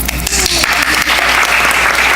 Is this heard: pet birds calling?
no